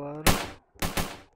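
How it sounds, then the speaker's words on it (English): A pistol tower fires in the Roblox game Tower Battles: two or three sharp, close game gunshot cracks come in quick succession, with a brief tonal game sound just before them. "Target pistol tower"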